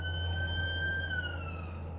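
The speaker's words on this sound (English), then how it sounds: "Oh, sirens going, sorry." Emergency vehicle siren sounding outside through an open window on a hot day, a steady wailing tone that slowly falls in pitch, carried over a constant low hum for about two seconds with no talk.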